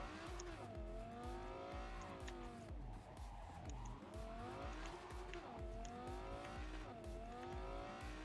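A video game car driven badly, its engine droning and revving with rising and falling pitch, along with tire squeals and skids, loud and continuous.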